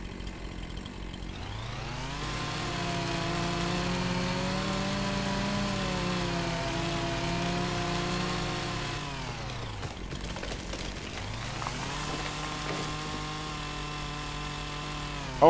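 Chainsaw-like motor drone from a lumberjack mod cutting tree stumps in Farming Simulator 25, a steady loud engine revving up and holding, dropping briefly, then picking up again, with no talk.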